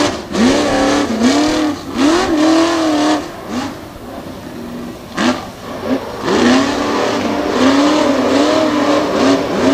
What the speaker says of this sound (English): Really able to push the truck through the corner.